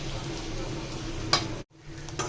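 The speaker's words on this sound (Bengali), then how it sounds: "এখানে আলু দিয়ে একটু করে ভেজে নিতেছি" Potatoes frying with turmeric and salt in a pan give a steady close sizzle with stirring scrapes, one sharper clink near the middle and a brief dropout before the frying noise returns.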